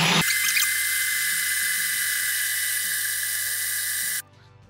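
A grain mill grinds malt for home brewing, a loud, steady whining mechanical drone with a faint ticking rhythm underneath that runs continuously and then cuts off abruptly near the end, leaving a low hum.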